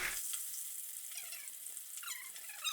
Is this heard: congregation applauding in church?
no